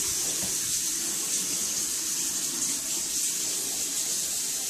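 A tap runs steadily into a sink during handwashing, a constant close splashing gush with no break.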